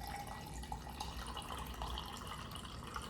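Drink mixed from a Brazilian Army MRE ration pack pours steadily into a container, a continuous close liquid trickle and splash lasting throughout without talk.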